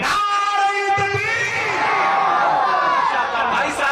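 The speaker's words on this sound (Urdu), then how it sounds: "پورا مجمع دونوں ہاتھ اٹھا کے نعرے کا جواب دے۔" A large crowd at a religious gathering shouts back in unison in answer to a slogan, a loud, sustained roar of many voices filling the whole moment.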